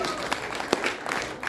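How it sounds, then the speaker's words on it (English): Comedy club audience at the Liberty Funny Bone cheering and clapping after a prompt from the stage, a dense burst of whoops and applause from a crowd filling a short moment. "that's the appropriate amount of cheering"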